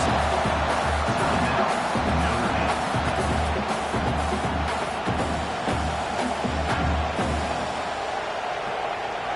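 A video-game stadium crowd at an NCAA college football game roars steadily behind the defense on a fourth down, a dense, continuous wash of distant cheering with no clear peaks.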